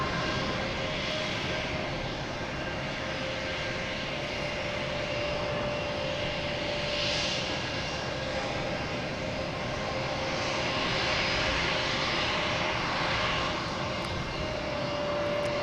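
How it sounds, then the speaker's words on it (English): A loud JetBlue jet airliner bound for Tampa sits at Boston Logan Airport, its engines producing a steady, powerful roar with a high whine, continuous and close for the whole stretch without talk. "Here's that loud plane, sat here, made all the noise."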